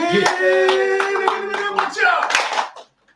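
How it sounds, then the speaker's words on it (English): Applause from a gathered audience right after a closing prayer, a brief burst of clapping mixed with cheering voices and chatter, dying away into silence at the end. "Give yourselves a round of applause."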